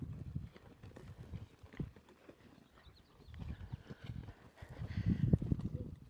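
A horse backing around a cone during groundwork training, its hooves stepping in an irregular, moderately close series of soft thuds with some scuffing, heard alone.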